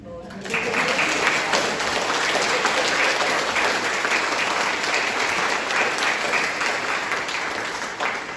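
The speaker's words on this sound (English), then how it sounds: "I think that deserves a round of applause." Audience giving a round of applause at an award celebration in a hall, dense continuous hand clapping that starts abruptly and holds steady, fading slightly toward the end.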